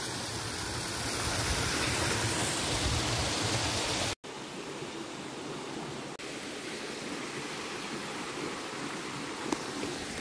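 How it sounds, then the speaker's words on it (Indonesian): Tall waterfall on a jungle stream in Hong Kong, a dense, steady roar of falling water throughout, loud and close, with a brief dropout near the middle before the rushing continues unbroken. "sekarang kita sudah berada di atasnya air terjun yang sangat tinggi banget"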